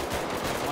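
Gunfire from a firearm in GTA 5 roleplay, heard as a dense, loud burst of rapid shots packed into under a second, with no clear pauses between reports.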